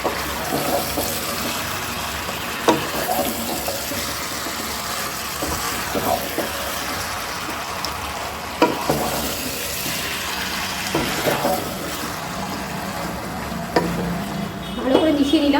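Chicken is stirred with spice paste for a green chilli chicken dish, giving steady scraping and sizzling in a pan with small clinks, close and continuous.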